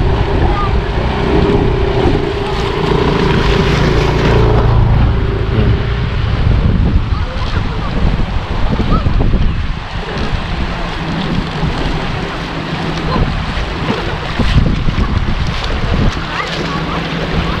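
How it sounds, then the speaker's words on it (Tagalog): A motorcycle rumbles as it crosses a shallow river, amid rushing water and wind noise, a loud, rough outdoor wash that surges and settles throughout. "May tumatawid na motor."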